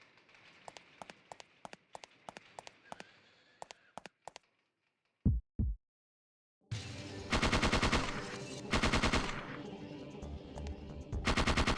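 Rapid bursts of automatic gunfire from the Parasite Eve 2 video game, starting as a sparse run of sharp shots, then a short pause with two thuds, then a loud, dense sustained barrage.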